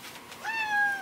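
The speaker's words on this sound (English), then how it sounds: "Meow, meow, meow, meow." A cat gives a single clear meow that rises and then holds steady, close by, over a quiet background in a family home during the morning routine.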